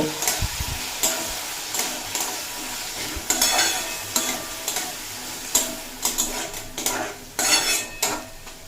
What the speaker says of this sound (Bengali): দেখুন সমস্ত উপকরণ খুব ভালোভাবে ভেজে নিয়েছি আর ভেজে নেওয়াতেই আলুও খুব ভালোভাবে কুক হয়ে গেছে